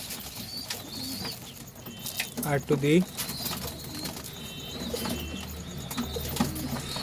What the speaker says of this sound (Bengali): দেখুন এইটুকুনি জায়গার মধ্যে সব পায়রা ছেড়ে দিয়েছি।